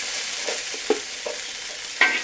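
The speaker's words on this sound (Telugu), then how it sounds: "బెండకాయలు అయితే వేయించుకుని అయిపోయినట్టే" Sliced okra frying in hot oil, a continuous bright sizzle with a few soft scraping stirs of a spoon or spatula, close by and with no talking.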